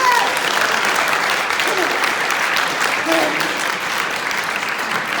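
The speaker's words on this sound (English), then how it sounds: "By a round of applause, that means clap your hands loudly." Sustained audience applause in a forensic science class session, dense steady clapping from a room full of people with faint voices mixed in, holding an even level for several seconds.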